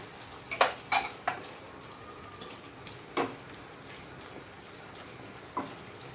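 Cashews are tipped into simmering mutton curry gravy and stirred, giving a few sharp clinks and scrapes of spoon against pot over a soft, steady background bubble.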